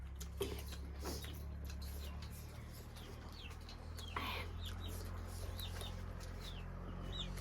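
Chicks chirp faintly in the distance, scattered high peeps repeating every second or so over a steady low hum and room noise.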